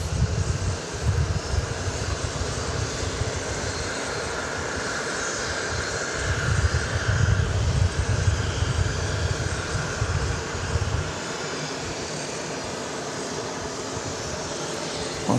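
A jet airliner in special livery rumbles at Dallas Love Field, a broad steady engine roar that swells in the middle and then settles to a lower, distant drone, with no talking.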